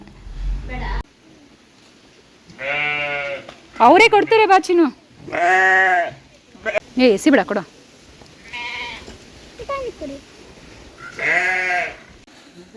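Sheep bleat repeatedly on a farm, loud and close, with several distinct bleats spread through the clip while people talk nearby.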